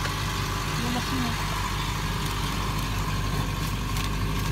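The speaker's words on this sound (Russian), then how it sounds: "То есть машина заводится, она едет" A car with a two-litre petrol engine and automatic gearbox running steadily at idle, a constant low hum throughout, with a voice talking over it.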